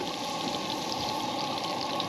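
Onions frying in a cast iron pan at a mountain campsite, giving a steady, dense sizzle, close and unbroken, with no talk.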